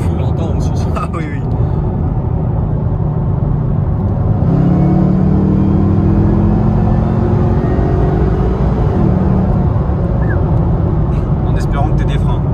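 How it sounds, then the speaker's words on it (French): Supercharged car engine with Brembo brakes accelerating under load, a steady loud rumble with a rising whine partway through, heard from inside the cabin while people talk. "le compresseur on le ressent mais de fou. On l'entend aussi."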